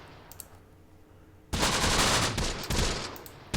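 Gunfire in a Close Combat battle in an Italian desert stronghold: a quiet lull with faint distant shots, then a loud, dense burst of machine-gun fire that rattles on continuously to the end.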